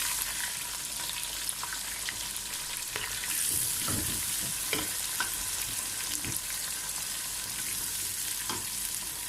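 Whole peeled onions crackle and sizzle in very hot oil, a dense steady frying hiss with occasional louder pops and stirring scrapes, close and continuous with no voices.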